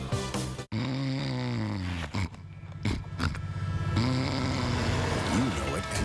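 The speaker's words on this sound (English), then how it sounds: "They snore like a freight train, and the snoring stops here." Exaggerated snoring in a radio advertisement for a snore therapy product, a loud rumbling snore with rising and falling tones mixed with voices and music across the whole stretch.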